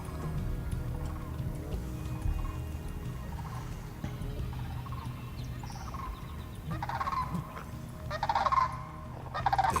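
Sandhill cranes arriving in spring from their winter quarters in Mexico give rattling, trumpeting calls over a dense chorus of other birds, and the calls grow louder and busier toward the end.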